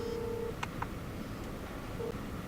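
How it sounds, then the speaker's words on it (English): A car Bluetooth FM transmitter adapter with a digital radio signals an incoming phone call: soft electronic ringing tones and a couple of short beeps over a steady background hiss. "Right now there is an incoming call."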